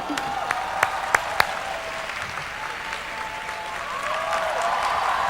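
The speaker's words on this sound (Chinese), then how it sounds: "伙伴们，我们用热烈掌声欢迎 Clara McDermott" Audience applause rises to welcome Clara McDermott, an upline, at a business meeting: steady dense clapping from a crowd throughout, with a few sharp nearby claps standing out early.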